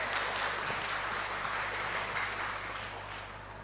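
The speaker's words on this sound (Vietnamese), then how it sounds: "Vỗ tay cái cho nó vui." Audience applause at a Buddhist dharma talk, a dense steady wash of clapping that starts full and slowly fades toward the end.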